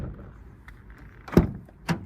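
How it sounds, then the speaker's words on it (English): A VW Transporter 6.1 van door without its rubber seal closes with a sharp near thunk, followed by a second lighter knock about half a second later, with faint room hum in between. "so this is what the door sounds like without it."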